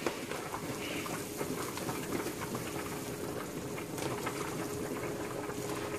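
A pot of meat at a rolling boil in a kitchen gives a steady, dense bubbling and hissing that stays close and even throughout, with no talk.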